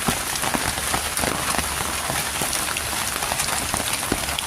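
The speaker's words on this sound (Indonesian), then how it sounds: "Ini hari ini diganggu sama hujan teman-teman" Steady rain pattering down outdoors, a dense continuous hiss of drops striking surfaces with no pauses, filling the whole stretch without any voices.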